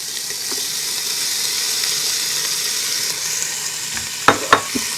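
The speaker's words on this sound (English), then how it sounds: "We're going to add this bacon into here, and then we're going to commence to browning it off." Bacon browning in a multicooker on sauté mode, a steady close hiss of frying with a few sharp clatters near the end, no voices.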